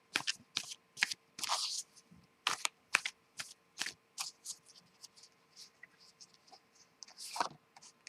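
Tarot cards being shuffled close up in a quiet room, in quick crisp riffles and flicks that come in irregular bursts with short pauses between them.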